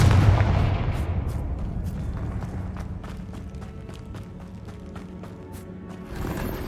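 The Confringo fire spell goes off in Hogwarts Legacy, a sharp blast at the start followed by a decaying rumble and a run of quick percussive crackles and impacts fading out.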